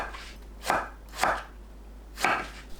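Eggplant sliced into thick strips on a cutting board, three distinct knife chops spaced roughly half a second to a second apart, close and clear with no talking.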